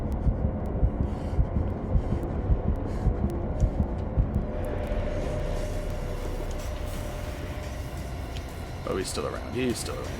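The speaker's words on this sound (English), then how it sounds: "the heart beating gets to me" In the Call of Cthulhu video game, a steady, low heartbeat thuds in a repetitive rhythm under droning ambience while someone talks over it.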